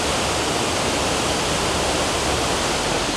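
Mae Wang Waterfall in Chiang Mai, Thailand pours with a steady, dense broadband roar of falling water, constant and unbroken throughout, with no voices.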